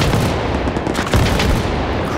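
Shilka anti-aircraft gun in Arma 3 firing in a dense, sustained burst, rapid automatic cannon fire with heavy low rumble filling the whole stretch, loud and close with no talk.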